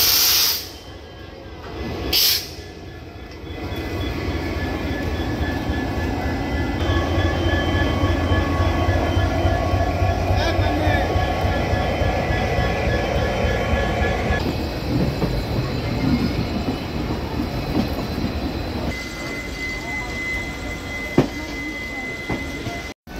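The 18615 Kriya Yoga Express rolls at Howrah station's platform 22, a loud steady rumble of wheels and carriages with hissing and clicking, plus sharp bangs early on; someone talks over it.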